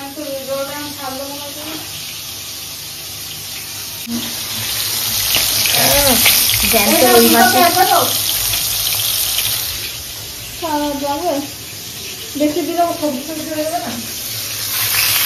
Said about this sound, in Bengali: এই জল পড়ে যাচ্ছে তো।